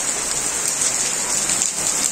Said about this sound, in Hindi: देखिए कितनी तेज बारिश आई।